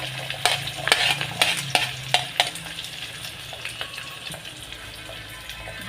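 Vegetables for veg pulao hiss in hot oil as a spoon stirs them, giving a rapid string of scraping clatters in the first seconds that thins to a softer sizzle with occasional knocks; no voices.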